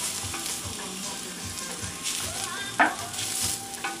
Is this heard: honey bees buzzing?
no